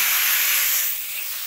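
Vegetables hitting hot oil in a pan let out a loud, close burst of hissing sizzle that eases off slightly after the first second.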